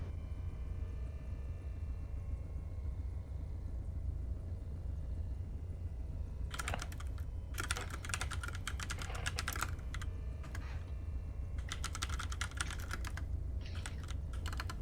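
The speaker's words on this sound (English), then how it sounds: "Oh yeah, I'm typing and it's nothing's there." Rapid clicking bursts of typing on a computer keyboard during an online game, close and crisp over a steady low hum, starting after several seconds and coming in quick irregular runs with pauses between.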